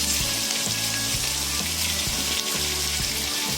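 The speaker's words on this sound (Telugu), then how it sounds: "ఇప్పుడు ఇందులో కలిపి పెట్టుకున్న చికెన్ని యాడ్ చేయాలి." Marinated chicken frying in a pan for a chicken curry gives a loud, dense, continuous sizzle that stays constant throughout, close to the microphone, with a faint low rhythmic rumble beneath.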